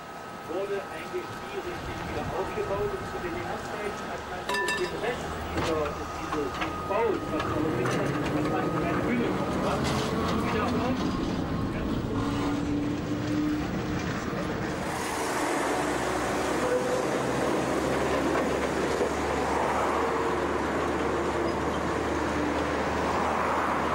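A 1939-built vintage tram running through Halberstadt, a steady low rumble of wheels and motor rolling along the tracks, continuous and fairly close, with a shift in the running noise partway through.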